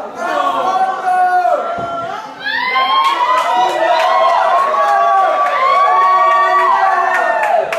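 A lively crowd at a drinking party in Kaozz, San Francisco, cheers, whoops and shouts loudly and nearly continuously, with a few claps, voices rising in excited bursts close by.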